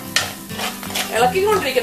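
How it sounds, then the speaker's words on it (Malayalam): A short burst of stirring and scraping in a clay pot as spice powders sauté over a soft sizzle, with a few clinks of a utensil against the pot. "കുറച്ചു നേരം ഈ പൊടികളൊന്ന് മൂത്ത് ഒരു പച്ച മണം മാറുന്നത് വരെ ഒന്ന് വഴറ്റിക്കൊണ്ടിരിക്കണം."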